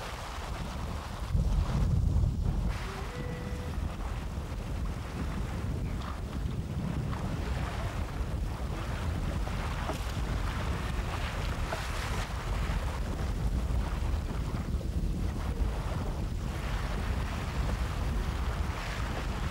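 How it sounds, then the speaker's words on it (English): Carved wooden pirogues glide across Upi Bay in New Caledonia, with steady wind buffeting the microphone over the wash of water and waves, and a gusty swell of noise near the start. "Pirogues glide through Upi Bay."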